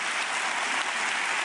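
Studio audience applause on a Brazilian religious TV programme, a steady dense wash of many hands clapping that fills the whole short stretch without pause.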